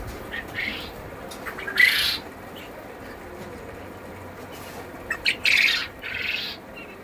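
Caged quail at a forest resort in Jaipur, Bankura, give a few short squawking calls, one around the second mark and a cluster later, over a faint steady background hum.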